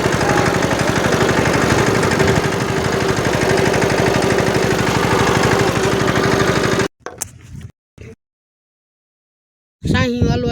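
A tractor engine runs loud and steady for about seven seconds, then cuts off abruptly, leaving a few brief noises, a long silence and a short burst of sound at the end.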